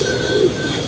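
A pigeon coos softly in a short, steady low call over a constant background hum, with no talk.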